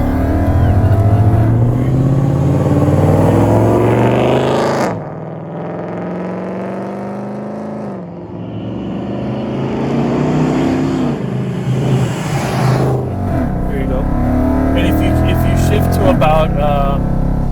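A Lexus IS F is driven at wide open throttle, its engine revving hard toward about 6,200 RPM with a loud, rising roar. The pitch climbs, breaks off at a shift, then climbs again. People talk over the engine noise.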